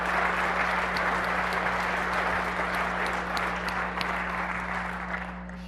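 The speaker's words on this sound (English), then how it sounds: "So double applause to this man" Audience applause at a tech conference session on private cloud strategy, a dense steady wash of many hands clapping that runs throughout and eases slightly near the end, with a low electrical hum beneath.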